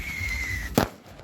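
A single sharp firecracker bang pops out of a background hum, loud and close, following a steady high whistle-like tone.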